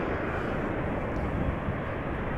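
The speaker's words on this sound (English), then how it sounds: "KLM A330 coming this way" A KLM Airbus A330 passing at Amsterdam Schiphol Airport gives a loud, steady broadband jet roar with no breaks, filling the whole moment close by.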